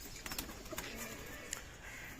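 Pigeons kept for Bengali pigeon-flying sport sit waiting, giving soft cooing calls over a steady outdoor background, with faint chirps and brief rustles scattered through.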